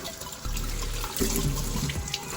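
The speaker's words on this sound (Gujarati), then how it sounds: "તો આપણે પહેલાં તો બટાકા ધોઈ દઈએ" Water runs steadily from a tap with splashing and sloshing as potatoes are rinsed under the stream, close and fairly loud, with no talking.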